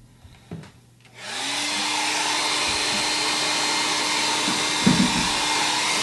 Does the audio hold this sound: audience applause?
no